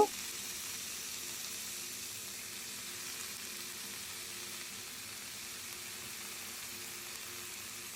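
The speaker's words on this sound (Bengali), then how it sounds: "সেই চিংড়ি মাছের খোসাটা দিয়ে দিচ্ছি আর আস্তে আস্তে ভেজে নিচ্ছি যেন এটাও লাল লাল মুচমুচে হয়" Shrimp shells fry slowly in a pan, giving a soft, steady hiss and sizzle that stays faint and even throughout, with a small clink at the start and no talking.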